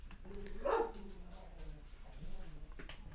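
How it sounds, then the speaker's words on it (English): A dog barking indoors in a home, one loud bark followed by softer yips and whimpers, with faint background noise and no speech over it. "Damn dog."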